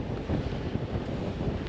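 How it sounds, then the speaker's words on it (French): Steady, blustery wind roars across the microphone at La Torche beach in Brittany, a dense continuous rush with faint surf beneath it and no voices. "Il y a du vent, pas mal."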